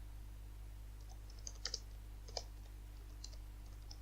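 Computer keys are typed while entering code in Matlab, giving a few faint, sparse clicks over a low steady electrical hum.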